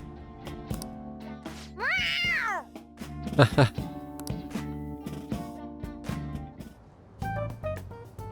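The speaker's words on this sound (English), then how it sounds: "A cat?" In the video game Persona 5 Royal, a cat gives two clear, rising-and-falling meows, close and moderately loud, mixed with game voices talking and soft background music.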